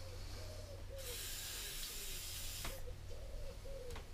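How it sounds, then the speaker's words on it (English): A brief burst of WD-40 aerosol spray into a Briggs & Stratton lawnmower engine hisses for under two seconds over quiet background noise, with faint bird-like chirps around it. "get some WD-40 spray and just have a general clean in there"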